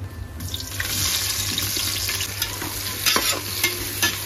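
Chopped onions fry in oil in a pan for sai bhaji, a chana dal and spinach dish, giving a steady close sizzle with scraping stirs and occasional clatters, no talk.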